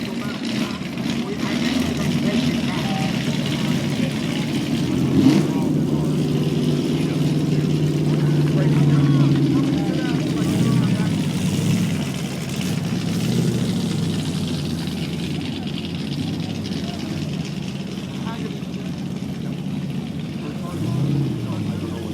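Three TVR Griffith Sport Coupe engines run at the Amelia Island Concours d'Elegance, a low, steady rumble that swells slightly and then fades outdoors, with crowd and announcer voices mixed in.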